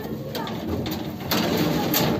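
Pigeons cooing in a backyard loft, soft repeated coos close by in short bursts, with light background noise.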